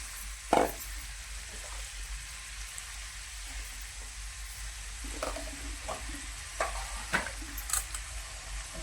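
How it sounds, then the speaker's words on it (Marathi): Vegetables with peas and carrots frying in a pan for paneer masala, a soft continuous sizzle with occasional sharp spatula knocks and stirring scrapes, close by and without speech. "आता असे करत तळून घ्यायचे"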